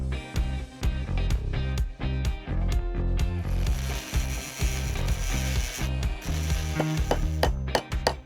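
A ratchet tightens a bolt during RV repairs in Valdez, Alaska. Its clicks come in a fast, steady rhythm of close strokes, loud and clear with no talking.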